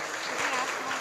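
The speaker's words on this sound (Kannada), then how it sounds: "ಜೋರಾಗಿ ಚಪ್ಪಾಳೆ ತಟ್ರಿ ನೋಡ್ರಿ" A crowd claps loudly and steadily at a devotional Basava Purana discourse, a brief dense burst of applause with some voices mixed in.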